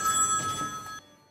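A telephone rings with a steady electronic trill, its bright tone sounding continuously for about a second before cutting off abruptly, alone with no voices.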